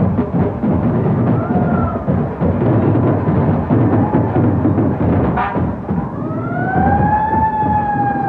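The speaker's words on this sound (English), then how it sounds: "Fire trucks do make noise when they get up close." Among the loud crowd and street noise of a Christmas parade, a fire truck siren sounds briefly, then rises into a clear wail near the end.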